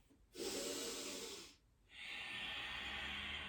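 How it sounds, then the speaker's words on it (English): Two long, noisy breaths through the nose during a yoga flow class, a steady hissing inhale followed by a brief pause and then a sustained exhale, soft and close with no talking. "Nice, long, noisy breath."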